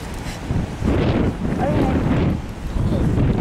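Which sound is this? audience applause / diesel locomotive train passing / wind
wind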